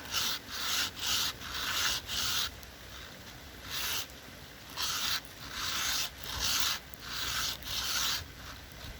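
A slate arrowhead is rubbed back and forth on very coarse sandpaper in rhythmic, gritty strokes, roughly a dozen close, loud passes separated by short pauses, with no talking.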